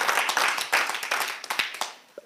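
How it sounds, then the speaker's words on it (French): Audience applause for three improvisation performers at a live radio show, a dense burst of many hands clapping close by that thins out and fades over about two seconds. "Alors vraiment, on peut encore les applaudir."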